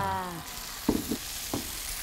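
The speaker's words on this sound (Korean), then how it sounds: "아직도 지글지글 그리고 있어. 지글지글 기름에" Onions sizzle quietly in hot oil, a steady crackle broken by a few soft clanks of a utensil against the pan.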